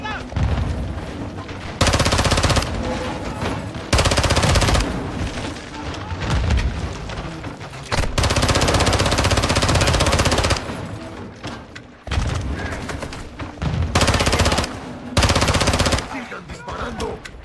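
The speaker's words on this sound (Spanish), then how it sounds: "¡Sigan disparando!" Heavy machine gun fire in the video game Modern Warfare II during a campaign battle, loud sustained bursts separated by short pauses, with booms and shouted voices mixed in.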